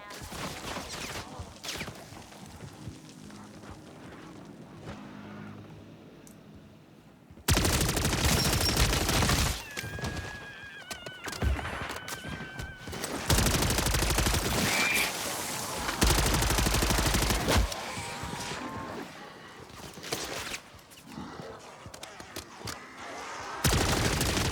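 Automatic gunfire from Call of Duty Modern Warfare Zombies rattles in loud sustained bursts after a quieter opening, with heavy booms mixed into the continuous shooting.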